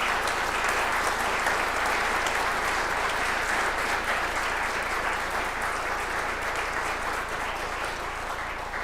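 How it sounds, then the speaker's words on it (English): Sustained audience applause at a village council meeting, a thick, even wash of many hands clapping that holds steady for several seconds with no speech over it. "Would you please give everyone a big round of applause?"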